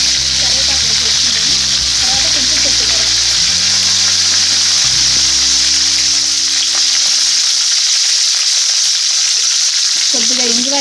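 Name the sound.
cumin and mustard seeds sizzling in hot oil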